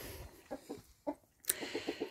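Several hens clucking in short, soft bursts inside a small wooden coop built from fir floorboards, with a brighter squawk partway through; fairly close and moderately loud.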